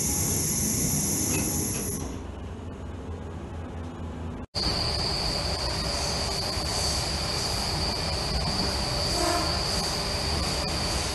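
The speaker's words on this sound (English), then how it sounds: "Doors closing. Please stand clear." An Australian Central Coast Super Six S-set double-deck electric train closes its doors with a sharp thud, then rolls away from the platform with a steady rising rumble and a high whine, near and loud.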